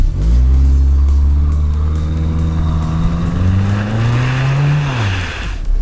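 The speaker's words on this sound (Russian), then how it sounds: "Очень медленно раскручивает двигатель." A Renault Duster with a 2-litre engine and automatic transmission pulls away on a snowy hill at full throttle, the engine note climbing slowly and steadily, loud and close, with a brief drop and rise near the end.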